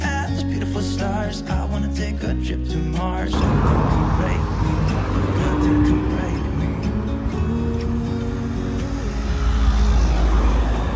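Cars on a South Downs and Surrey Hills road pass close by a bikepacking cyclist climbing a hill, their engines and tyre rush swelling loudly under music and wind noise.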